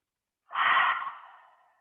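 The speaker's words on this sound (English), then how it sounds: "So we have 2 more breaths." A single slow, close exhale during a gentle morning yoga session, breath rising quickly then trailing off softly into silence, no words.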